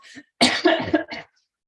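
A short series of coughs, a faint one followed by several harsh bursts close up, then silence.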